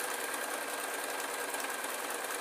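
A sewing machine runs steadily as a quilt's backing is stitched, a continuous even whir close by with no talk.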